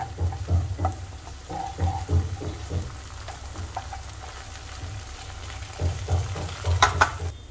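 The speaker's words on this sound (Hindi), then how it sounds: "इसे भी भून लेते हैं प्याज के साथ।" Ginger garlic paste sizzles with onion in hot ghee, a steady low frying hiss with periodic stirring scrapes and soft clinks, fairly quiet and close, with no talking.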